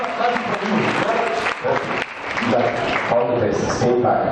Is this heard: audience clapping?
yes